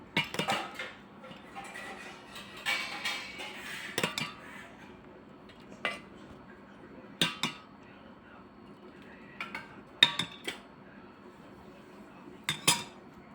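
Ingredients for Kachchhi kadak, a Kutch street dish, including butter pieces and cooked vegetable, stirred with a spoon in a large vessel, producing soft scraping and scattered metallic clinks and taps, fairly quiet.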